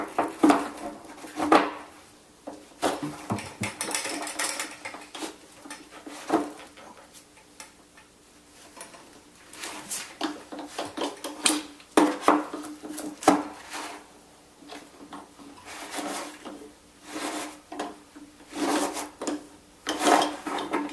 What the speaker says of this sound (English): Take your screwdriver, put it in the end of the element wrench, and turn it counterclockwise